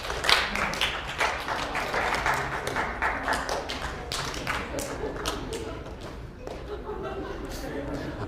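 A live audience claps during a spot-the-difference picture game, scattered claps and taps building into irregular bursts, heard under a presenter's talking.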